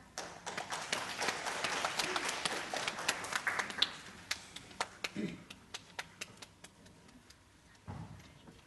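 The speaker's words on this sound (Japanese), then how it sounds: "皆様、今一度盛大な拍手をお送りください。" Audience applause at the opening ceremony of a 2017 concert in Yokohama, a sustained burst of clapping that thins into scattered individual claps, then a brief renewed round near the end.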